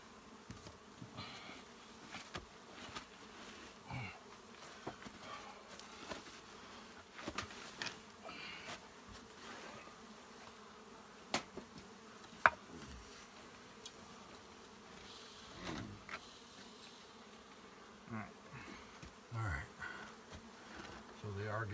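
Many bees buzz steadily around a hive's mesh that is not bee-proof and full of holes, a continuous close swarm drone with individual insects flying past, faint voices in the background.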